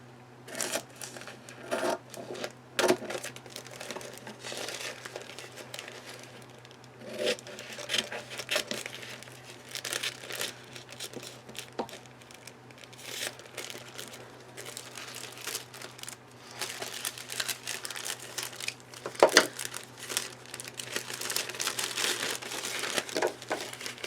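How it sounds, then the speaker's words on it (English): Rice paper is handled and smoothed onto unfinished wooden drawers for decoupage, producing soft, continuous close-up crinkling and rustling in uneven waves over a faint low hum. "I'll go ahead and put the entire rice paper on,"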